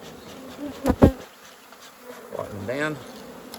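Stirred-up honey bees drone at a hive while frames are moved to make a nucleus colony, a steady buzz beneath a couple of sharp knocks and a brief spoken phrase.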